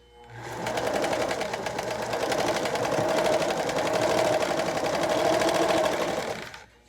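A sewing machine stitches a quarter-inch seam on tiny quilt blocks, a steady rapid whir of needle strokes running continuously for several seconds, close and even, then stopping.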